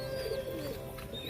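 Rampuri pigeons in a loft softly coo in a low, steady murmur, faint and close, with no voices over them.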